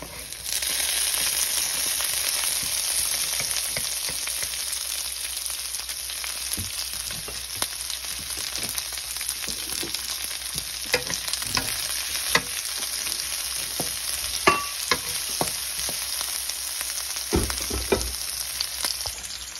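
Onions sizzle in a hot pan while a dish of milkfish with fermented black beans is cooked, a steady close frying hiss broken by occasional stirring scrapes and clinks, with no talking.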